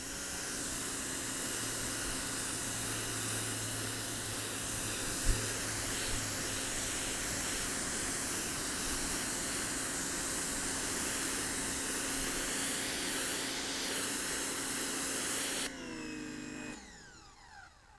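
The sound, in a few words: AIVOLT PWX-3200s electric power washer spraying mud off driveway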